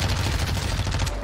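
Rapid gunfire from an STB 556 rifle in the shooter game Warzone 2, a loud, dense burst of close, cracking shots over a short moment.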